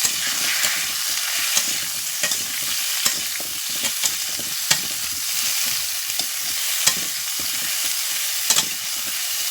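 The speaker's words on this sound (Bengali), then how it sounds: "এবার আমি আমড়াগুলো এর মধ্যে দিয়ে দিই আমড়াগুলোকে একটু নেড়ে নেবো" Hog plums stirred and fried in a pan for a sweet pickle, giving a continuous close sizzle with frequent spoon scrapes and clicks against the pan.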